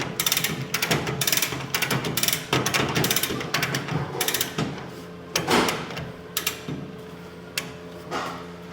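A ratchet on a mini jet boat build being cranked tight, a series of sharp mechanical clicks in uneven bursts, close and fairly loud, with no talking.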